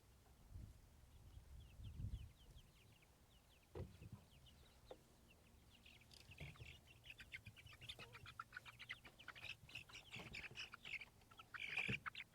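Chickens in a newly built coop cluck and squawk softly, scattered close and mid-distance calls with rustling and occasional knocks over a quiet background.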